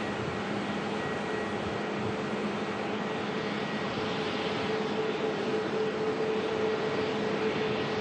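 China Airlines and Air China jets departing Auckland airport at night: a steady, even roar of engines at a distance, continuous throughout with no talking.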